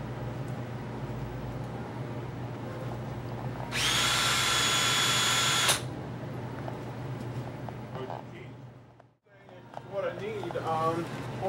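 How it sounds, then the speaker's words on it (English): Power drill used to bypass a lock: a loud, steady, high whine in a single burst of about two seconds, surrounded by a constant background hum and people talking. "There's lots of ways to bypass locks. I'll use a drill."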